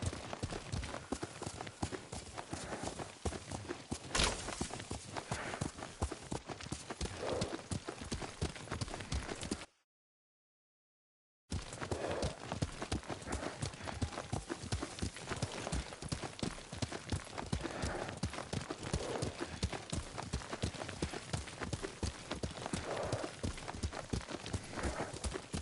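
Galloping horse hooves in Ghost of Tsushima, a rapid steady clip-clop rhythm running continuously and close, briefly cut to silence partway through, no talking.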